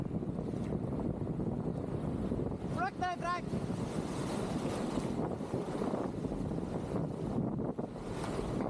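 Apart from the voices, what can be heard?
wind and waves while sea kayaking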